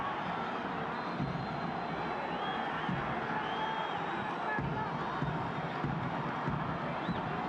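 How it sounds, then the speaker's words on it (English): A sold-out crowd at Athlone Stadium during a South African Premiership football match between Stellenbosch and Orlando Pirates, a distant continuous roar and murmur with faint whistles, steady and even throughout. "The crowd want a third."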